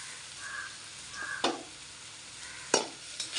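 Browned onions with curry leaves frying in a pan hiss softly and steadily. Two sharp spoon scrapes cut through, with fainter stirring in between.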